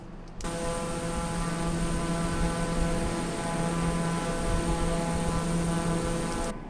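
Simulated TBM 850 turboprop engine in a flight simulator game, a steady loud cabin drone with a constant tonal whine and hum, starting abruptly and holding evenly, with no voices.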